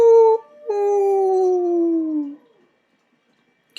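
A single long howl in the Tsukihime game starts with a short high cry, breaks briefly, then slides slowly downward and fades out, leaving near silence after it.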